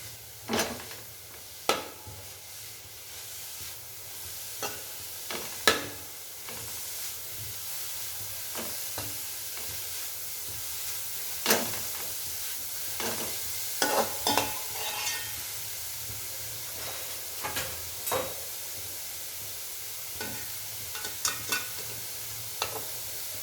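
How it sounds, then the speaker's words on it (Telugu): Beetroot frying in ghee for halwa gives a soft, steady sizzle, broken by intermittent spoon strokes and scrapes against the pan that click out at irregular intervals. "ఈ విధంగా నెయ్యిలో ఫ్రై చేసుకోండి."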